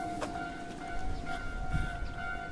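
A Japanese train, car 6020, rolls past with a steady rumble and a sustained tonal whine or horn-like hum running throughout, no talking.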